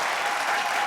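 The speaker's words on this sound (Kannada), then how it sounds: "ಬರ್ಲಿ ಚಪ್ಪಾಳೆ" A studio audience at a TV show bursts into a short, dense round of clapping that stays steady and close for the whole moment.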